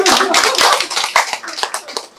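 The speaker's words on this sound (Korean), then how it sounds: "박수 한번 쳐보세요." A group of listeners in a Korean lecture hall claps their hands together briefly, a dense burst of overlapping claps close by that tapers off after about two seconds.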